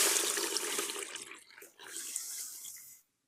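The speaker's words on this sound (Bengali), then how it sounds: "তার থেকে 2 ডাবল পরিমাণ পানি দিয়ে দিব সিদ্ধর জন্য" Water poured into a cooking pot over about 250 grams of mung dal, roughly twice the lentils' volume, for boiling: a bright, close splashing gush that thins, briefly dips, then runs on before stopping abruptly.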